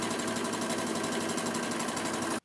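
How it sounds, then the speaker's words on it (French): Sewing machine stitching a tie strip along the last 30 cm of a hospital gown's neckline, a steady continuous whir with fast even needle rhythm that stops abruptly at the end. "je finis de coudre la nouette sur les 30 derniers centimètres"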